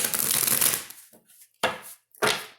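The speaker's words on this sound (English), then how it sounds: "the deck is really fighting shuffling" A tarot card deck being shuffled, a dense riffling burst first, then a few short separate card riffles, close and fairly loud.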